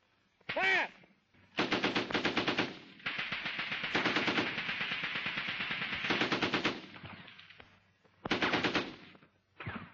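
A machine gun fires several rapid bursts during a platoon attack exercise. The bursts are loud, sharply separated by short pauses, and there is no talk over them.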